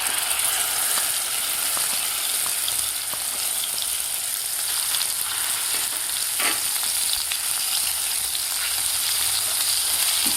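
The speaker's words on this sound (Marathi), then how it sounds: "आपल्याला मसालासुद्धा व्यवस्थित 2 ते 3 मिनिट परतून घ्यायचा आहे." A soybean curry's bay leaf, asafoetida and prepared spice masala sautéing in a pan, a loud, steady, close sizzle running throughout with occasional soft ticks and scrapes of stirring, no talking.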